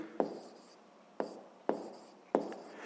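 Four sharp taps of a pen on paper land close by at uneven intervals as numbers are written by hand during a sixth-grade math exercise, with soft scratching between them.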